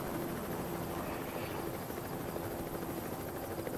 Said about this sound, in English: And there's helicopters.